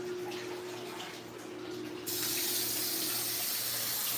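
Water pours steadily from a tap into a fish tank, a constant rushing flow that suddenly grows louder and brighter midway, with a low steady hum beneath.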